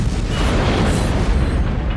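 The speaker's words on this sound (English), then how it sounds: "they manage to hop off the boat as it explodes." A boat exploding in a film scene, a loud sustained roaring blast with dense rumbling debris that fills the whole moment without letting up.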